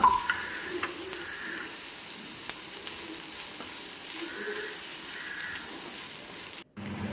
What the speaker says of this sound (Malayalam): ലോ ഫ്ലെയിമിലൊക്കെ ഇട്ടിട്ട് നിങ്ങളൊന്ന് ചെമ്മീനൊന്ന് ഫ്രൈ ചെയ്തെടുക്കുക